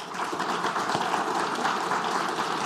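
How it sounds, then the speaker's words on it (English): An audience applauds a panel at a conference session, with dense, even clapping from many people sustained at a moderate level for the whole stretch. "A round of applause to the panel."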